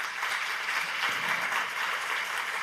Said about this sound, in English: Please help the ladies with a supportive applause